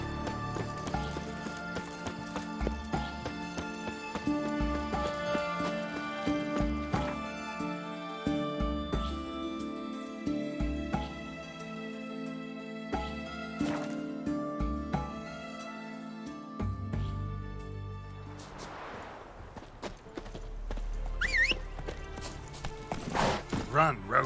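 Roach, a horse in the video game The Witcher 3, galloping in rapid rhythmic hoofbeats under game music and effects, with the pace breaking into a louder rumbling stretch near the end.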